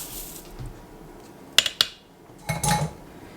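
Uncooked rice tipped into an Instant Pot with red beans and beef, giving a couple of sharp clinks against the metal pot, then a short soft rattling pour, close and fairly quiet in a kitchen.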